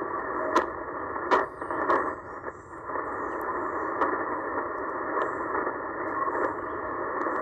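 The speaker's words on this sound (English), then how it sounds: "A lot of static crashes this morning." Shortwave radio static on a Tecsun PL990X during a morning band scan between 6 and 7 MHz, steady hiss broken by sharp irregular crackling crashes, with a faint high carrier tone.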